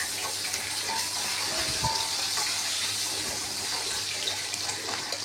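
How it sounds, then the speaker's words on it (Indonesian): Shallots, chili and tomato sizzle steadily in hot oil in a home kitchen wok while cooking stir-fried water spinach, a continuous close frying hiss with a brief clatter of stirring near the middle. "Nah langsung kita tumis ya, bawang-bawang, sama cabai sama tomatnya."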